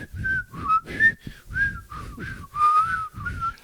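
A person whistling in short, wavering pitched bursts, close and fairly loud, with audible breathy air between notes.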